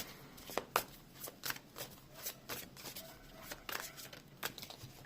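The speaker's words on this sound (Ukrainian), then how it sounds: "Так, всі карти повилітали." Playing cards spill out in a rapid, uneven patter of papery flicks and slaps, fairly close and quiet, with no one talking.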